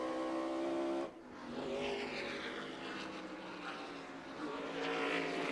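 NASCAR race cars roar around the Topeka track in 1997, a distant, steady engine drone with pitch sweeps as the cars pass, heard alone without talk.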